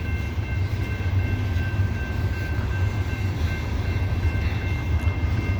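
A loaded CSX coal train slowly climbs Parrs Ridge with one locomotive offline, giving a steady, heavy low rumble and drone with faint high tones, continuous and fairly close with no talk.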